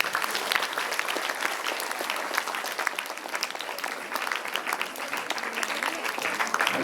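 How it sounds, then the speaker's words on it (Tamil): A crowd claps for teachers at a public speech event, a thick, continuous wash of applause from many people that stays even and sustained throughout. "அவங்களுக்கு ஒரு கைத்தட்டு கொடுக்கலாமே"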